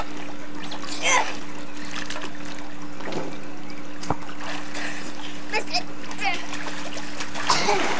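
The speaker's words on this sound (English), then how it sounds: "Uh oh, they're squirting water." Water splashes and squirts around a pool party, with intermittent splatters and trickles over steady background noise while children and adults chatter and shout nearby.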